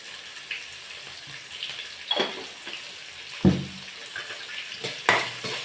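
Onions sautéing with salt in a pan while rice is being cooked, heard as a soft steady sizzle with a few clinks and scrapes of a stirring utensil.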